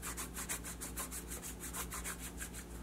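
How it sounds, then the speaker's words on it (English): Steady, rhythmic brushing strokes for ASMR, a soft bristly swish repeating about every quarter second, close up and alone with no talking. "People like hearing brushing sounds."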